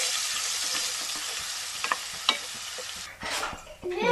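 Ginger garlic paste sautéing with mustard seeds in hot oil for a garlic pickle, a loud steady sizzle with scraping stirs and a few sharp pops, close up.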